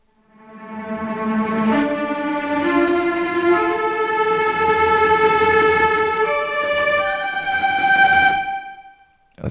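Orchestral bowed strings from a Spitfire Symphony Orchestra sample library play sustained, shimmering tremolo chords that shift through several pitches, swelling evenly before a soft release.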